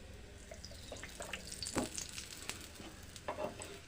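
A pea-stuffed paratha fries in oil on a tawa, with a soft, low-level sizzle and a few light scrapes and taps of a spatula, close but quiet, no talking.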